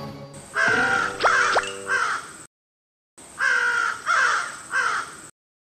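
Falcon cries in an animated fairy-tale cartoon: a run of harsh, crow-like calls repeated in two bursts with a silent gap between, close and loud with no talking.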